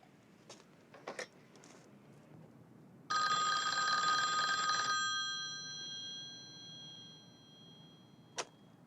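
A telephone rings in a film scene with one sustained bright bell burst that fades into a lingering tone, set among quiet clicks and a final short ding.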